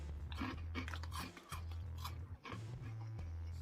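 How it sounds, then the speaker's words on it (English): Doritos Twisties Flamin' Hot Cheese Supreme chips crunch between the teeth in repeated close bites and chews, loud and steady, with short pauses between. "Snack or chip itself has a really nice crunch and texture to it"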